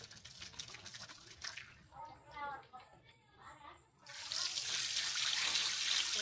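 Sliced potatoes for wafers being rinsed in water in a pot, with sloshing and trickling followed by a louder rush of running water, heard up close.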